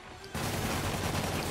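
Enemy gunfire in Marvel's Spider-Man video game, a dense, continuous crackle of rapid shots that starts abruptly after a quiet moment and carries on steadily at moderate loudness.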